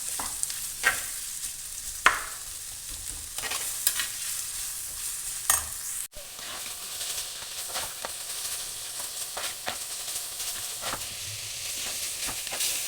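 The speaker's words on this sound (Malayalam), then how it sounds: "നമ്മൾ അരിഞ്ഞു വെച്ചിരിക്കുന്ന സവോള ചേർത്ത് കൊടുക്കുക. നന്നായി ഇളക്കി യോജിപ്പിക്കുക." Chopped onions sautéing in hot oil for a Kerala-style chicken curry, with a constant close sizzle broken by repeated spoon scrapes and stirring bursts across the pan, and nobody speaking.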